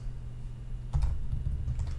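Close keyboard typing at a computer: a quiet patch, then a quick run of soft clicking keystrokes in an irregular burst.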